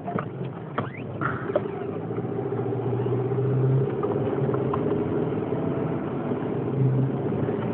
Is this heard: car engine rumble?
yes